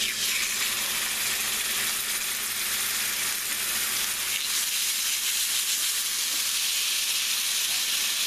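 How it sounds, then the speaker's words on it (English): Steady, loud sizzling of steaks searing in a hot cast iron pan with olive oil, a broad hissing crackle that lasts throughout. "And listen to the sizzle when I add our steaks."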